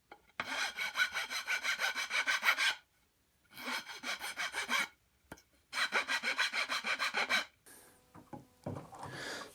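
Hand saw cutting into a wooden back post while shaping an antique platform spring rocking chair, heard as three bursts of steady rhythmic back-and-forth strokes, close and fairly loud, with short pauses between and some rubbing at the end.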